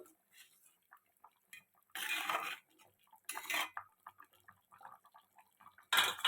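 A spoon stirs masala into a tangy fish curry in a metal pan, making intermittent clinks and scraping bursts with short quiet pauses between strokes.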